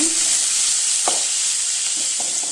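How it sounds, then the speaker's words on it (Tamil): Curry leaves and crushed mustard seeds sizzle in hot oil for a palak stir-fry, a steady close frying hiss with a few brief stirring clicks and no talk. "அது கூட ஒரு கொத்து கருவேப்பிலை போட்டுக்கலாங்க. நல்லா வதக்கிக்கலாம்."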